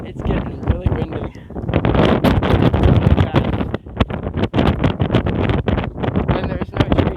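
Strong wind buffets the microphone at a campsite, a loud, continuous roaring gust that swells and dips over several seconds with no other clear sounds.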